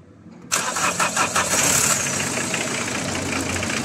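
A car engine cranks and catches, then settles into a steady idle with a bright, high chirping squeal over the running motor, close and fairly loud.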